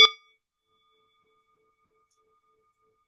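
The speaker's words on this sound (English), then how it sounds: "do the bell at the end of the title" A single bell is struck once to mark the end of a spoken title during a consolation practice, ringing out sharply and then decaying into near silence.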